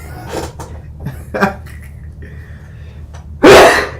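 A single loud, close sneeze bursts out near the end, preceded by quieter breathy sounds and faint shuffling in a quiet room.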